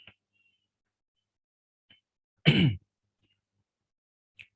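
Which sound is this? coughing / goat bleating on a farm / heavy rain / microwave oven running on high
coughing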